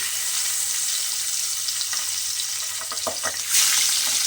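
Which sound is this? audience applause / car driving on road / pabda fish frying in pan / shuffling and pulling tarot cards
pabda fish frying in pan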